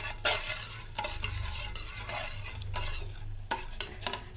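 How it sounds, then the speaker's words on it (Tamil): A spoon stirs jaggery into water in a pan on a low simmer for a coconut milk drink, giving repeated scraping strokes against the metal with a soft sizzle beneath, with no talking. "இதில் இந்த நாட்டு சர்க்கரையை போட்டு நல்லா கரையணும். சிம்மில் வச்சுக்கணும்."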